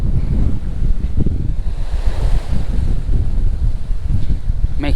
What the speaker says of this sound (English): The waves have been close to 2 meters today.